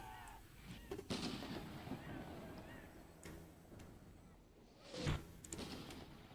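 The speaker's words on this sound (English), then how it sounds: "They're shooting shrapnel, something like that." Artillery firing shrapnel in the strategy game Empire Total War, a Civil War mod, heard as a few sharp distant booms over a continuous battle rumble.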